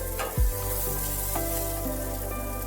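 Onions and garlic sizzle steadily in hot oil in a pan, a continuous frying hiss with a knock or scrape from stirring near the start, and no talking.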